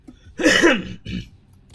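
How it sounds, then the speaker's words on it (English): A man forcefully clears his throat right into a close microphone: a short rasp, then a longer, gravelly hacking burst, followed by a smaller second clearing a moment later. "clear my throat right into the microphone for you guys"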